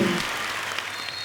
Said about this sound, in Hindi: बहुत बहुत स्वागत है, तालियां जोरदार होनी चाहिए।